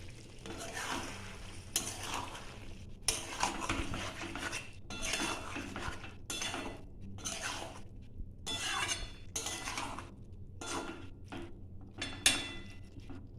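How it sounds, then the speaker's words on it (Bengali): Mola fish curry with ridge gourd, potato and onion stirred in a pan, giving repeated bursts of metallic scraping and clinking, close and fairly loud, separated by short pauses. "একটু নাড়িয়ে দেবো।"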